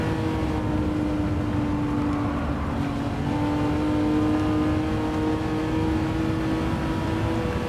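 Ferrari Testarossa engine in Gran Turismo 7 driven on the Nürburgring, a loud steady high-revving drone with a sustained tonal whine that shifts slightly in pitch, continuous and close throughout.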